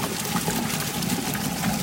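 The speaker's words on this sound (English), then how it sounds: "We're looking to bring the water level in this chamber up close to the top of the filter housing" Water pours steadily into a filter bag chamber, a continuous close rushing and splashing flow.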